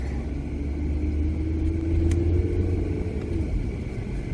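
A car drives on a road in Hesse, Germany, heard from inside with a steady low engine and road rumble, loud and close, with a faint tone rising and falling midway.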